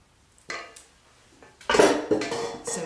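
The last of a dark chocolate fudge cake batter is scraped into a tube pan with a utensil, giving a few clinks and scrapes of metal against the pan after a quiet start.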